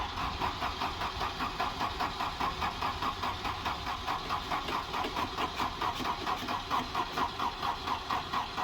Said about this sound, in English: let me get this set up and we'll try and crank it